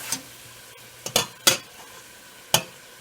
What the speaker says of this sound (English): then I'll scrape the cooked part off and move it over